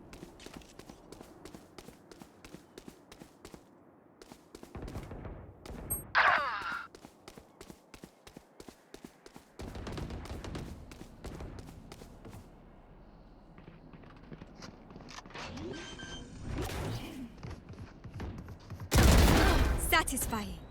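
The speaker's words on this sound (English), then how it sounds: "Placing swarm grenade." Swarm grenades fired in a Valorant match: a busy run of rapid pops and bursts with footsteps, a sharp bright crack near six seconds and a loud harsh burst near the end, with voices heard at times.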